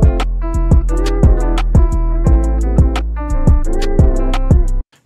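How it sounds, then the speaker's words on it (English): Hip-hop beat in FL Studio pitched down one semitone, a loud looping pattern of heavy bass hits, crisp snares and hi-hats under a repeating melody, running steadily for about five seconds before cutting off abruptly. "So I actually decided to pitch the whole track down one semitone, so it sounds like this now."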